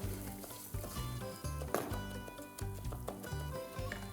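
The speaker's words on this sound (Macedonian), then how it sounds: "Ајде сега го додаваме оризот и мешаме." Rice being added to a pan and stirred for a chicken-drumstick risotto, a steady sizzle with repeated scraping stir strokes, close and fairly loud, with no talking.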